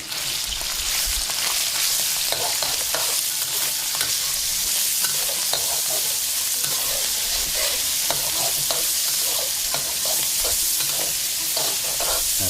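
Meat being stirred in a hot pan for an Uyghur dish, a steady loud sizzle with repeated scraping strokes of the spoon throughout, no talking.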